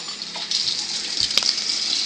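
Water runs steadily from a sink tap nearby, a continuous hiss and splash with a couple of brief knocks partway through.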